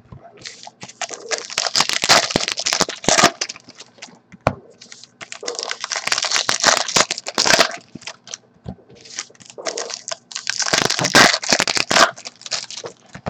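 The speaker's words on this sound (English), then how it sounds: "You guys really like the sound of opening packs." Baseball trading card packs being torn open and shuffled, bursts of crinkly foil wrapper crushing and crackling in three long clusters with brief pauses, close and fairly loud, no talking.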